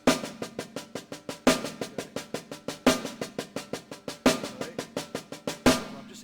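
A drum kit plays a fast, even paradiddle sticking pattern with regular louder accented hits, a crisp close-miked run of strokes with no voices.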